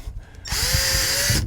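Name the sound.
power drill drilling into 1965 Ford F-100 interior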